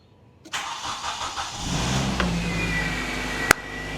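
Car engine starting after a fuel tank repair with the hoses refitted: the starter cranks briefly, then the engine catches and settles into a steady mid-pitched idle, close and loud, with a sharp click near the end.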